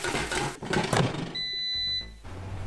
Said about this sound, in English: Okay, so the timer's gone off.